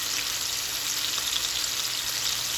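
Floured cube steak sears in a hot pan, producing a loud, dense, unbroken sizzle like steady hiss with faint crackles, close and alone without speech.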